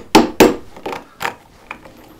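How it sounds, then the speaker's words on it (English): Four or five sharp wooden taps, loud and close, then fading, as the square tang of a carving tool is tapped into a wooden handle to ream out the hole. "I tap this a little bit, and then I use the square edges of the tang to ream out the hole"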